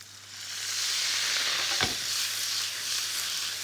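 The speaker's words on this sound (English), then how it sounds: "Now we need to deglaze this with some wine just to make this extra saucy" Wine hits a hot pan with parsley stalks, scallop, pancetta and zucchini for fettuccine, giving a loud, steady broadband sizzle that swells and holds, with one brief clink near the middle and no voices.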